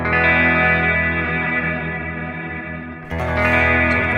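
Steinberger Spirit GT-PRO Deluxe electric guitar on its bridge pickup with a clean tone, a sustained chord ringing out loud and close, then a fresh strum near the end.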